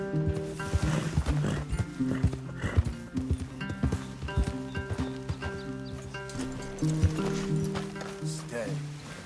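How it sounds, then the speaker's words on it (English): Horses in a PS4 video game, with hoof clip-clops, snorts and a whinny moving at close range amid a busy game soundscape, while characters talk over them. "Leave the horses in the trees there."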